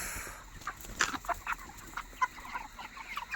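Chickens cluck in short, scattered bursts inside a poultry farm at night, the calls fairly close over a steady low background hum.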